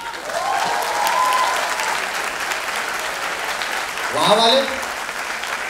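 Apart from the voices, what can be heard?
audience applause at a college film competition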